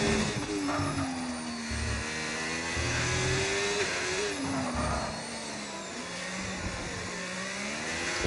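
A Ferrari Formula 1 car engine in a racing video game whines and revs continuously through a qualifying lap, rising and falling with gear changes, close and steady.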